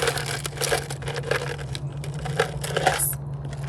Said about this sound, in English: I put the ice in the cup.